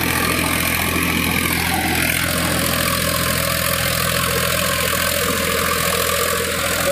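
A Sonalika 35 tractor with a rotavator idles close by, a low continuous rumble with a constant mechanical drone and no change in pace.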